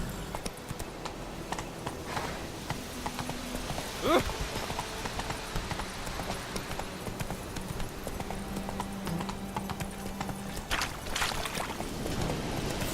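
Horse hooves in The Witcher 3 video game, a steady clip-clop of a trotting or galloping mount carrying on throughout, moderately loud over ambient game sound, with a short spoken exclamation midway.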